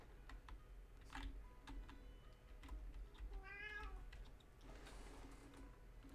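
A pet cat meows once with a clear rising and falling call in the middle, heard indoors over the faint ticking and tapping of a computer keyboard during a Minecraft stream.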